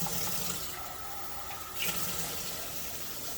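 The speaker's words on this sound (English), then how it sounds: "Might need a little bit more water actually, so we're gonna go ahead, add some." Water runs steadily from a sink tap, a soft continuous splashing flow that briefly swells partway through, quiet and without voices.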